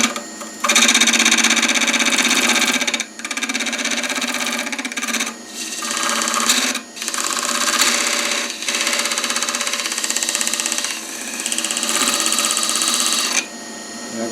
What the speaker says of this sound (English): I'm going to use a parting tool now just to get rid of them last little bits.